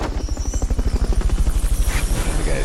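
A Fulton recovery helicopter in Metal Gear Solid: Peace Walker thrums loudly, its rapid rotor beats pulsing steadily and close for a couple of seconds.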